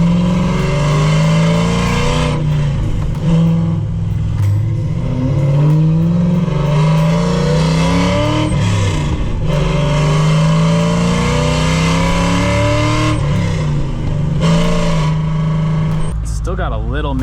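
A Crown Victoria drift car with a newly installed engine revs hard and steadily up close, its loud exhaust note rising and falling through several pulls with a slight roughness running through it.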